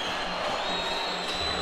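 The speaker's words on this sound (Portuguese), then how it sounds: "Torcida do Criciúma grita Gustavo." Criciúma football fans in the stands during a Catarinense 2024 semifinal against Barra, a steady crowd roar and chant filling the stadium, sustained and fairly loud with no commentary over it.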